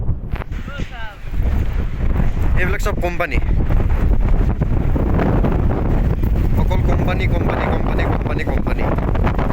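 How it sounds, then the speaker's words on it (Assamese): Strong wind at a hilltop viewpoint near a temple buffets the microphone in loud, continuous gusts, while someone talks over it. "বতাহ বহুত মাৰি আছে, বতাহ বহুত।"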